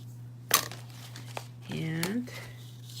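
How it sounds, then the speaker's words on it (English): Paper craft pieces for a treat box card are burnished, giving a sharp crinkle followed by softer rubbing and scraping sounds, close up, with a low steady hum underneath. "now we're gonna burnish these things again"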